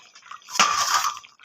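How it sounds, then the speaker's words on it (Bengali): A metal cooking pot lid lifted off simmering chicken, giving a sudden clattering clink followed by a brief hiss and bubbling of liquid, close and alone. "আমি ঢাকনাটা খুলে"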